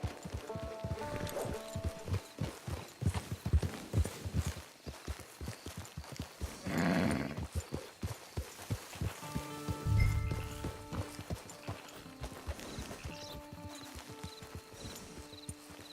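Horse hooves clip-clop in a steady trotting rhythm in the video game Red Dead Redemption 2, close by, over soft ambient music.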